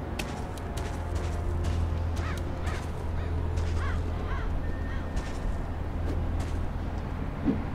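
Raven in the stealth game Mark of the Ninja gives a run of harsh, repeated caws, several calls in quick succession over a low steady ambient hum.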